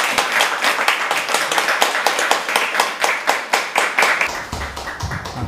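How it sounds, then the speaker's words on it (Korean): A church congregation applauds during a Sunday worship service: dense, steady crowd clapping fills the space for about four seconds, then thins out and fades near the end. "서학수 집사님을 보내주신 하나님께 감사하는 마음으로 영광의 박수 올려드리고"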